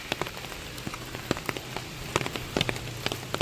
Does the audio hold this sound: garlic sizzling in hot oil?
no